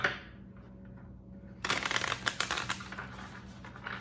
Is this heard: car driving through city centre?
no